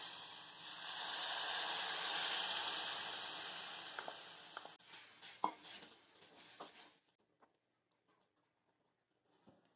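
Boiled chickpeas go into a masala together with their cooking water, giving a steady loud sizzle and hiss in the pan that gives way to a few clinks and taps before falling quiet.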